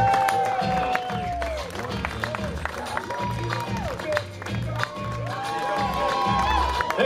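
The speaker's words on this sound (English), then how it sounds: "Keep your applause going." Wedding guests applaud and cheer steadily through the whole stretch as the wedding party is introduced. The crowd noise is loud and continuous, with an announcer's voice talking over the clapping and a few whoops.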